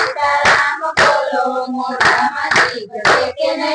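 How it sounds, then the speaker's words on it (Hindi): Hands clapping loudly and steadily at a devotional satsang gathering, with several groups of sharp claps in a brisk rhythm alongside singing voices, close and prominent throughout. "हे बे हाथे ताली पाड़ो हाथ में जोर से"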